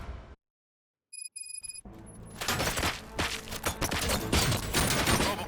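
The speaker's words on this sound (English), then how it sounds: "Shot at. Gunshots?" Gunfire from the RoboCop: Rogue City video game crackles as a dense, sustained fusillade after a brief silence, loud and continuous with overlapping shots and game sound.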